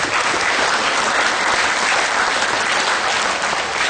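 Audience applause at the Ontario Summer Show 2012 cattle show: steady, dense clapping from a large crowd, loud and continuous throughout with no talking.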